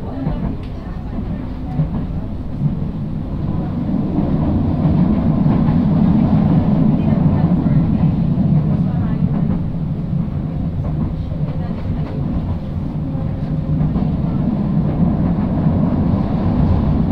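An LRT-1 light rail train running, heard as a loud, continuous rumble and rattle from inside that holds steady for the whole stretch.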